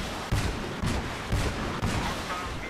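Artillery fires in a video game as four deep, booming shots, roughly half a second apart, over a steady roar of background noise.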